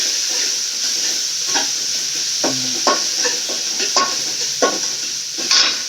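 Vegetables sauté in a pan during home cooking, with a steady, close sizzling hiss. Scattered spatula scrapes and clinks against the pan break through it, and nobody speaks.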